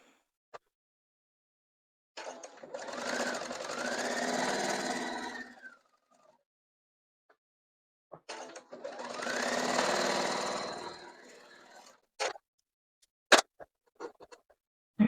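A sewing machine stitches machine-pieced quilt blocks of trapezoids and dots in two steady runs of about four seconds each, fairly close. Between and after the runs come quiet gaps with a few sharp clicks and taps.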